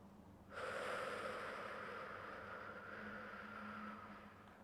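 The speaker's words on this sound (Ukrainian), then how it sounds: "Разом зі мною через нос вдихаємо." A slow, steady inhale through the nose during a calm lymphatic-drainage breathing exercise, heard close and sustained for about four seconds, with no talking.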